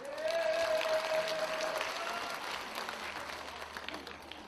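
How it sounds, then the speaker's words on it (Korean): Audience applause at a concert, recorded at the CJB Media Center in Cheongju, fills the clip as steady broadband clapping, with a held sung or instrumental note fading out near the start. "자, 박수 크게 한번 쳐주십시오."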